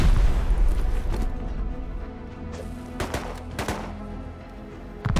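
Loud gunfire in Rust, a few sharp shots and short bursts cracking out over a rumbling background, with spaced single reports toward the end.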